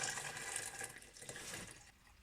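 Water pours into a jar of fruit kefir with lemon and fig, a faint, steady splashing rush that tapers off near the end, with no talking.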